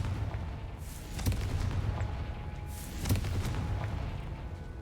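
Confringo spell blast in the Hogwarts Legacy video game, two heavy booming impacts about two seconds apart over a rumbling low background, moderately loud, with no talking.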